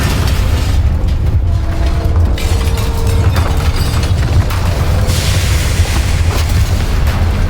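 Confringo fire spell blasts in Hogwarts Legacy, a dense booming explosion sustained loud throughout with crackling bursts and rumbling low end, no voices.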